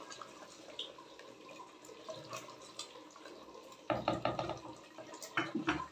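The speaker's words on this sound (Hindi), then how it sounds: "अब इसके अंदर थोड़ा सा पानी ऐड करेंगे, तकरीबन 2 ग्लास, ताकि आलू अच्छे तरीके से गल जाए।" Water is added, about two glasses' worth, to a pot of cut potatoes and chicken. A faint trickle is followed by louder splashing bursts as it pours in, alone without talk.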